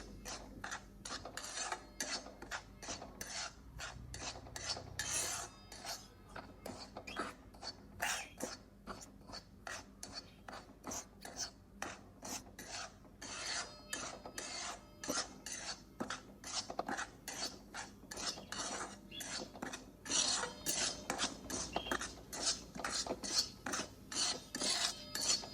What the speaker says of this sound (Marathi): मी 1 कप रवा घेतला आहे। आपण मंद गॅसवर भाजून घेऊया।